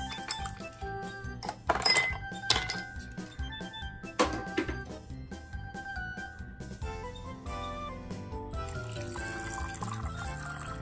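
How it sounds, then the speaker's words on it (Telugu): Ice cubes dropped into glasses while making nannari sugandha sharbat, giving a few sharp clinks in the first seconds, followed by a steady watery wash with a faint tonal backdrop. "ఇప్పుడు గ్లాసులు తీసుకొని కొన్ని ఐస్ క్యూబ్స్ వేసుకోవాలి"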